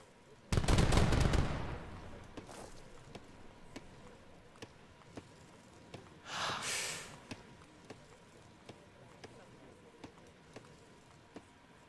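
A sharp loud burst from an organ gun in an Age of Empires III match opens, followed later by a second muffled volley and scattered faint clicks over a quiet background.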